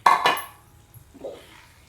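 Two sharp metallic clanks of a utensil against a pan ring out as fried mushrooms go into masala, then a softer scrape follows, with no voices.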